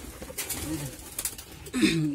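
Domestic pigeons, including breeding pairs sitting on eggs in a home loft, give soft low coos at a moderate distance. A fuller, louder coo closes the stretch over light background noise.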